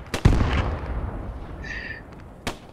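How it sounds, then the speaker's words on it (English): A sharp artillery boom cracks out in a World War II shooter set during the battle for Arnhem, followed by a decaying rumble, a faint whistling tone and a second short report near the end. "Do we have one artillery strike or do we have more?"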